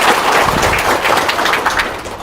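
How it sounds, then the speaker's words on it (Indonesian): Applause from a studio audience on an Indonesian debt-relief talk show, a dense, steady patter of many hands clapping at close range, holding level for a couple of seconds before easing slightly at the end. "Tepuk tangan dong."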